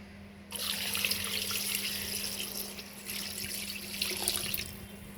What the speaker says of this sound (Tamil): புழிஞ்ச தேங்காய் பாலை வந்து ஊற்றிக்கொள்ளலாம்